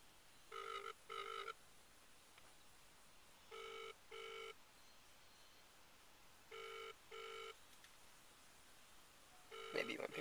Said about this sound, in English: Just gotta make a quick little phone call.